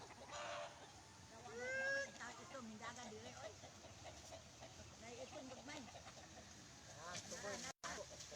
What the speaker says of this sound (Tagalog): dami niyang mga manok dito yan no dami niyang manok yan